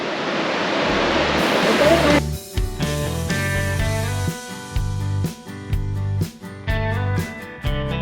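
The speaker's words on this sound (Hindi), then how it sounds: "मंदाकिनी नदी की आवाज़ आ रही है बहुत तेज" The Mandakini river at night roars loudly and close for about two seconds, then music with a steady rhythmic beat takes over and covers it.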